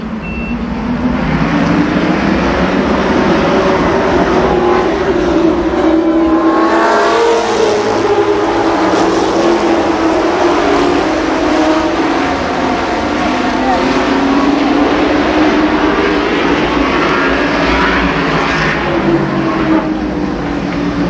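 A 20-car field of ARCA Supercars roars past at the start of a race at Columbus Motor Speedway, a loud, dense blend of engines that builds and sweeps by, with an announcer talking over the din.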